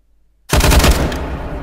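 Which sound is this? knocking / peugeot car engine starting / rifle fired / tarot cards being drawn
rifle fired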